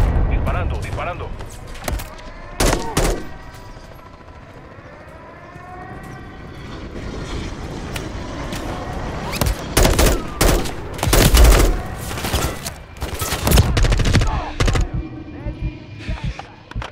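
Gunfire from an airstrike in the video game Call of Duty Modern Warfare 3 rattles out in repeated loud bursts and blasts, mixed with radio-style voices and battlefield noise.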